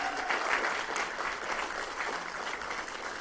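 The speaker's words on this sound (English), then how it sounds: "Laura and Tom as well, please, a round of applause." Conference audience at a European startup event gives a sustained round of applause, moderately distant and even, a continuous wash of many hands clapping with no one speaking.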